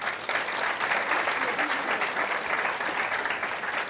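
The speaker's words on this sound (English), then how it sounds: "and you're impressed, give us the applause" Sustained, loud audience applause for a panel of speakers at a conference on skills for success in the Africa region, steady throughout with crowd noise and some voices mixed in.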